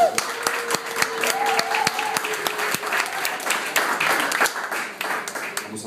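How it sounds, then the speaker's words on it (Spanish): An audience applauds a 12-year-old girl singer being introduced on a concert stage before she sings a song with musicians. The clapping is steady and dense throughout, with no talk over it. "Tiene un aplauso para Luana"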